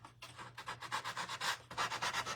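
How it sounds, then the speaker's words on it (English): Sandpaper rubbing over a wooden snowman craft, working near the top of the piece in quick, regular back-and-forth strokes, close up and steady with no talking. "I'm gonna try to sand this at the top here"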